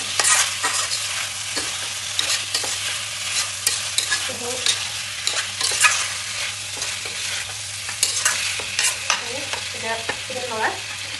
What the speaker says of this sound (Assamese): অকণমান গৰম মছলা দিছোঁ মছলা দি এইখিনি লৰাই দিওঁ